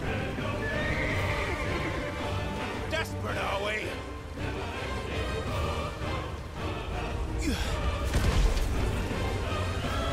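A large horse whinnies loudly in Final Fantasy XVI, the neigh rising over dense game music, rumbling effects and occasional hoof clatter.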